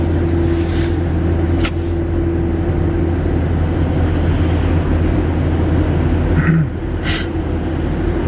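A car drives along a road with a steady, loud interior engine drone and road rumble, a couple of brief higher whooshes passing partway through.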